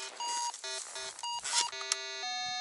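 A metal detector gives a string of electronic tones while searching an old abandoned village site, steady pitched beeps that step between levels and shift with the signal, loud and close with no talk.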